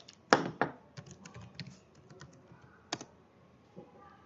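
Keys clatter on a computer keyboard as a password is entered, a few sharp clicks followed by lighter irregular taps, close and quiet with no talk.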